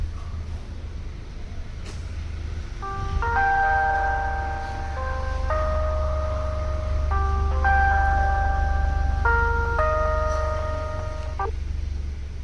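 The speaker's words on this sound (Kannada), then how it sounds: "Please wait while we connect the call." A phone line plays its waiting tone while the call connects: a repeating electronic melody of clean, bright notes in several short phrases over a low, constant hum.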